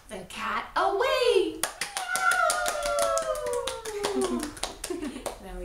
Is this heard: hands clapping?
yes